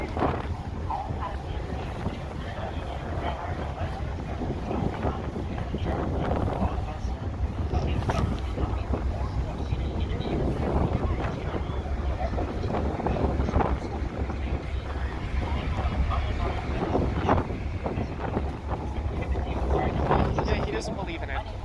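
Strong wind buffets the open deck of the Queen of Surrey ferry between Horseshoe Bay and Langdale, a steady loud roar of gusts hitting the microphone with engine rumble beneath and voices talking through it.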